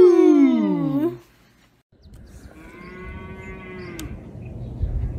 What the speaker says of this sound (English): Many cows moo moo moo moo moo moo.